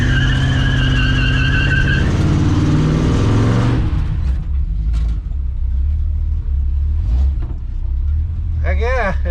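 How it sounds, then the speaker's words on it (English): A pickup truck does a burnout. A loud skidding squeal runs over a deep engine rumble, then gives way to a steady low roar with scattered tire chirps. "Heck yeah, it'll do a burnout."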